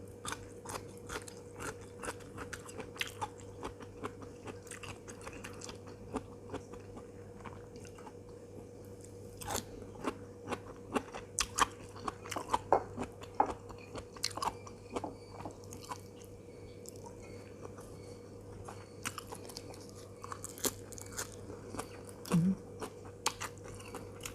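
Crunchy young vegetable shoots, from a Thai home meal with chicken liver curry over rice and shoots such as sadao or matum khaek, are bitten and chewed close up, with irregular crisp crunches under steady low background hum and no talking.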